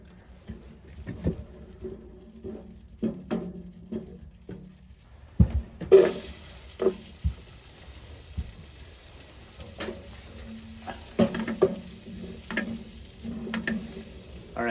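Beef cooking in an uncovered pot inside a tiny cabin on a winter camping trip, a soft simmer and sizzle under intermittent knocks and clatter of utensils, turning to a steadier hiss midway.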